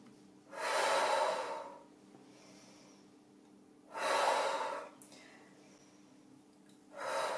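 Slow, deep breaths come during shoulder shrug exercises, with three loud, close breathy exhalations spaced a few seconds apart and quiet between them.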